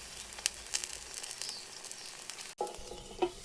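A potato and egg omelette sizzles steadily in hot oil in a pan, with crackling pops and occasional scraping or stirring noises near the end, no talking.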